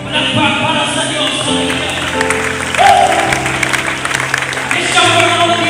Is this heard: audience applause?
yes